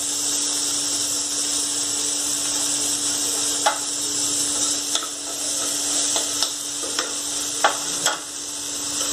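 Tomatoes tossed into sautéed onions in a pan for homemade Maggi, a steady sizzle with a faint tonal hum and a series of short scraping stirs in the second half.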